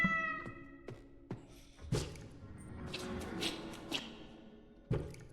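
A cat meows in the indie horror game The Dreadthorn Therapist, a clear tonal cry at the start followed by soft squishy and dripping game sounds.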